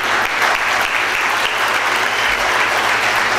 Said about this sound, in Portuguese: pode aplaudir que é bênção